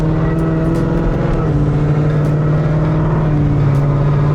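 Steady, loud engine drone with a deep exhaust rumble from a Roush Stage 3 Mustang with a Borla Atak exhaust, heard from inside the cabin, holding a constant low tone throughout.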